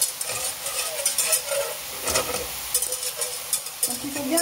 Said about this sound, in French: on démarre la béchamel, je fais fondre le beurre